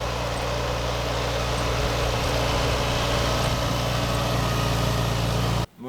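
A Farmall Cub tractor engine runs at a steady, loud idle on a small farm, with a constant low chugging drone that cuts out briefly right at the end.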